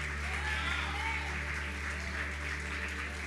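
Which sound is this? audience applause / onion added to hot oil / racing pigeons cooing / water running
audience applause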